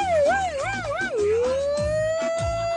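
Wailing ambulance siren imitated by a voice in a comic beach show, a rising and falling warble repeated three times before settling into a long steady tone, loud and close with faint band sounds underneath.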